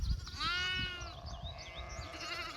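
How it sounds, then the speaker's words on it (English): Several sheep bleat in a five-acre grazing pasture, a long wavering call swelling up close and then fading into softer, overlapping bleats from the flock farther off. "Sheep, sheep, sheep, sheep, sheep, sheep, sheep, sheep, sheep, sheep."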